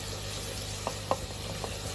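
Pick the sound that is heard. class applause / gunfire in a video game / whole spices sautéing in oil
whole spices sautéing in oil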